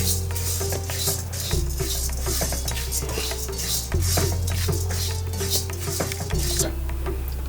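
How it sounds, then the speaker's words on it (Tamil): Lentils for an Andhra-style paruppu podi, dry-roasting in a pan over a slow flame, stirred continuously with a metal spoon that scrapes and clinks against the pan. A steady low hum sits underneath. "ஸ்லோ ஃப்ளேமில் கைவிடாமல் இதை வறுக்கணும்."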